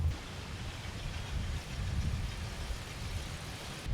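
A 1964 Rambler's engine idles in a low, steady rumble, rough and unvaried over a few seconds, with some wind noise and no talk.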